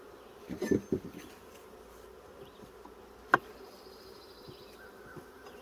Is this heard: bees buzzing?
yes